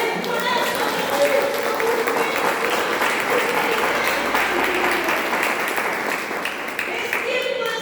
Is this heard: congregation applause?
yes